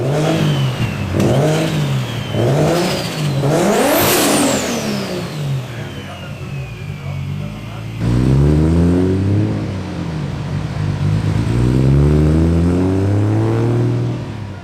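A car engine on a boost run revs loudly and repeatedly, climbing and falling in sweeping pulls with one sharp high rise, then continues in strong rhythmic revving up close.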